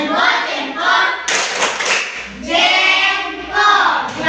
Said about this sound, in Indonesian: tepuk tangan saya dulu untuk kelompok 1 dan 4